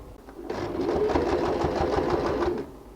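A sewing machine stitches towel fabric in a steady, close, rapid mechanical whir lasting about two seconds, starting and stopping cleanly.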